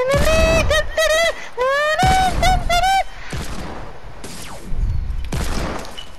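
Pistol fire from a Desert Eagle in the video game Fortnite, several sharp shots in quick bursts up close, mixed with game sound effects and tonal chirps throughout.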